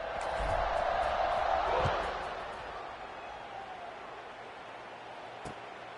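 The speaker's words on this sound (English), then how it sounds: "this crowd is feeling themselves after that last drive" Stadium crowd in College Football 26 roars loudly, swelling then easing into a sustained distant murmur, with a commentator talking over it.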